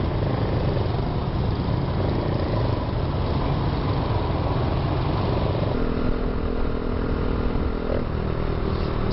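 Dense motorcycle and scooter traffic pulls away in Saigon, heard from a moped among them, with a continuous loud engine drone and wind rumble and a faint horn-like tone partway through.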